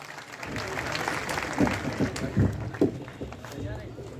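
At a youth conference, a crowd claps to welcome a guest, a moderately loud burst of applause with a few sharper accents, and voices carry over it.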